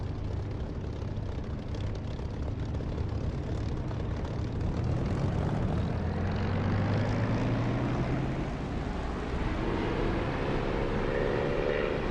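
In the DCS flight simulator, an aircraft engine throttles up for takeoff, a loud sustained roar whose tone climbs steadily in pitch as power builds, continuous with no speech.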